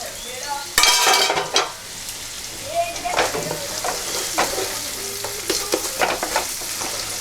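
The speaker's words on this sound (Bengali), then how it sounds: "এবার গ্যাসটা একটু বাড়িয়ে দিয়ে আর আমি চিকেনগুলো এর মধ্যে দিয়ে দিলাম।" Chicken pieces frying in masala in a pan over raised gas for a home chicken curry, a loud steady sizzle with bursts of crackle and a few scraping stirs, no talk.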